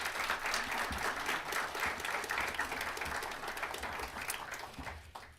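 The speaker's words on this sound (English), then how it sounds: "Please give a round of applause" Sustained audience applause fills a lecture hall at Northeastern University for a democracy conversation event, steady dense clapping throughout that thins slightly toward the end.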